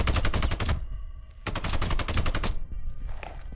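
Two long bursts of loud automatic gunfire in Sniper: Ghost Warrior 2 during Mission 5, each roughly a second of rapid close shots, separated by a short gap and followed by a quieter tail.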